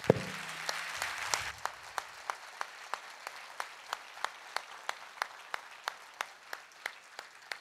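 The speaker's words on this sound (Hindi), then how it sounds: "एक बार सभी जो हमारे विद्यार्थी बैठे उनके लिए जोरदार तालियां।" A room of seated students at a debate event bursts into applause that fades quickly, leaving a few slow, evenly spaced claps that continue alone.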